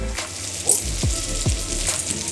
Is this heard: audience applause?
no